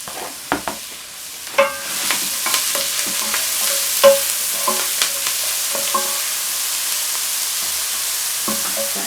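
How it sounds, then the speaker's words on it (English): Onion, bell peppers, garlic, scallions and cilantro sauté in olive oil, making a bright continuous sizzle punctuated by frequent sharp clacks and scrapes of a utensil stirring the pan, close and fairly loud. "We're just going to add some olive oil just to saute our veggies"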